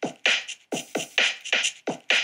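Hip hop drum loop played on its own, with punchy kicks and crisp snares repeating in a tight, steady groove; close, dry and prominent with no voices.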